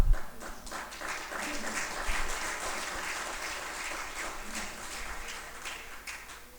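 An audience claps at a Hindi poetry recital, a steady run of applause with scattered sharper claps, fairly faint and heard from a distance.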